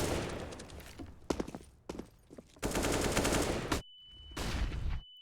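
Gunfire from a Counter-Strike match at a DreamHack Masters esports broadcast comes in several loud bursts of rapid automatic fire separated by short pauses, with a few single cracks.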